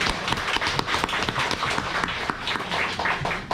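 Audience applause at a special lecture for a university Korean literature club's 40th anniversary, a dense, steady patter of many hands clapping throughout.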